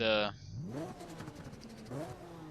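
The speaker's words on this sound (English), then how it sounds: "So we're gonna go ahead and fire this thing up" A Toyota Supra drag build in a racing video game fires up with a short burst, then revs through several rising sweeps over about two seconds, loud and close, while a voice talks over it.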